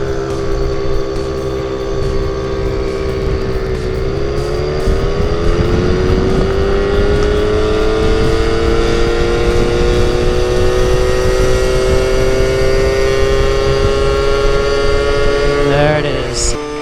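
A Yamaha QT50 moped engine pulls hard along a 500-foot run, its loud, buzzy two-stroke drone climbing steadily in pitch and then holding near its limit, close and continuous throughout with steady wind rush.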